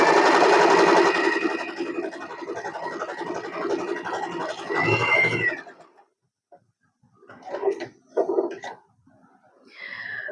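An Usha Allure DLX sewing machine stitches with a steady, close mechanical whir for about five seconds, then stops and leaves a few short clicks and handling noises.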